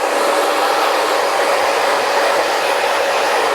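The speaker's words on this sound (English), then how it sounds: "Now I'm going to pop the nozzle back on, dry the back and sides too." A handheld hair dryer with a nozzle fitted blows continuously while drying a client's short haircut in a salon, a loud, steady whooshing roar with a faint whine, close by and without pause.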